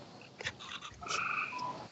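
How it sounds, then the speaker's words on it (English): A frog croaks in short raspy bursts and a few chirping calls, faint and somewhat distant, against quiet background noise with no speech. "It's a frog"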